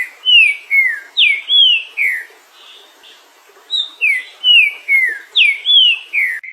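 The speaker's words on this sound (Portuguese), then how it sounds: "Trinca-ferro." A green-winged saltator (trinca-ferro) sings loud, clear whistled phrases of slurred, descending notes in quick groups, with a short pause mid-song before the phrases resume.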